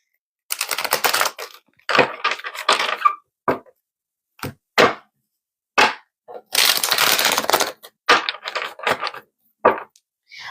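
Tarot cards are shuffled in quick, crisp bursts of riffling and flipping, several separate rustling runs with short silent gaps between, close and clear.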